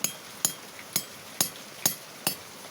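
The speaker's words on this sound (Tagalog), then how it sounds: "Dahan-dahan lang ang pagpukpok." Light hammer taps drive a valve guide into a Mio Sporty scooter engine by hand: six crisp, close strikes at a steady, unhurried pace, each ringing briefly.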